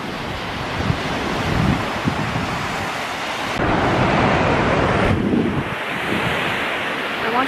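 Ocean surf rolls onto a Maui beach in a loud, continuous roar of breaking waves mixed with heavy wind buffeting the microphone.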